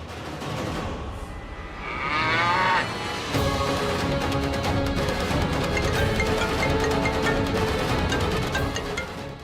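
Cattle moo and goats bleat nearby on a road, a few calls rising over a busy, noisy outdoor background with shuffling and clatter.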